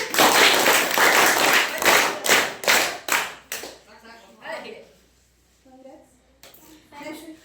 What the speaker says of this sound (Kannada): ಎಲ್ಲ ಎ ತಂಡ ಚಪ್ಪಾಳೆ ಹಾಕಿ.